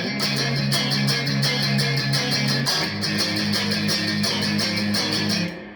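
An electric guitar plays the riff from a song in its studio version, sliding up to the four chord. Loud, driving strummed attacks repeat in a steady shuffle rhythm with no voice over them.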